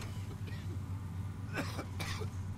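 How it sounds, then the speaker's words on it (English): Coughing from someone off to the side during a Fallout: New Vegas gaming session, a couple of short hacking bursts around the middle over a steady hum of game sound and background noise. "Who's coughing?"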